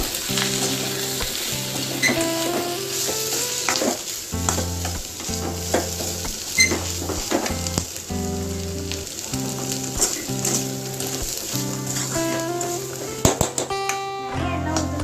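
Turmeric and salt stirred into masala in a frying pan sizzle steadily while a spoon scrapes and taps the pan in a quick, repeated rhythm, up close, with background music running underneath.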